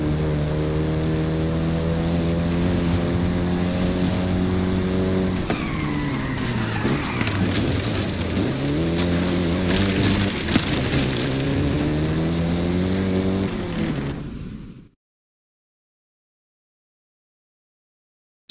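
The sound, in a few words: Volkswagen Golf GTI car driving in Forza Horizon 5 video game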